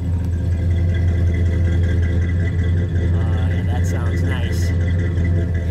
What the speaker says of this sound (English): We get a little exhaust note.